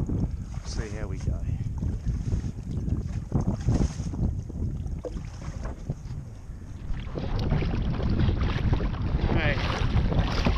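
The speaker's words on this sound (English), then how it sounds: "Very windy today." Strong wind buffets the microphone in a constant roar while out on the water at Bemm River in a kayak, with choppy water sloshing underneath; someone talks intermittently over the gusts.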